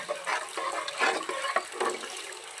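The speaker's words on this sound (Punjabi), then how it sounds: "ਥੋੜਾ ਜਿਹਾ ਅਸੀਂ ਪਾਣੀ ਪਾਵਾਂਗੇ" Water pours steadily into a pot of kadhi with a splashing, trickling sound, close by and fairly loud, with no talking.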